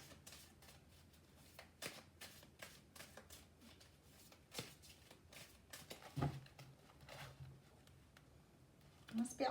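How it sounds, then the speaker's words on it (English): Tarot cards being shuffled in a quiet room, a series of soft papery riffles and slaps repeating irregularly, close and fairly faint, with a louder rustle near the end. "they've asked me to do another shuffle"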